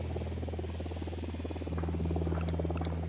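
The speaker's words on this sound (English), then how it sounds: "The drone is up." A surveillance drone in Ghost Recon Wildlands hovers with a steady low mechanical hum and faint buzzing whine that swells slightly partway through, with brief soft higher blips near the end.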